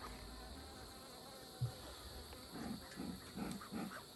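Honeybees buzzing around an open beehive, heard as a faint, steady insect drone with a few louder buzzing pulses as individual bees pass close, all under a low background hiss.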